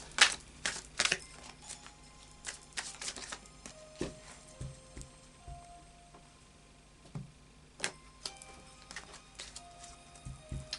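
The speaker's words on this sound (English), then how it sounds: "So I'll just do a final shuffle now." Fairy oracle cards shuffled by hand in quick riffling bursts, crisp papery flutters and taps with short pauses between, close up and fairly quiet.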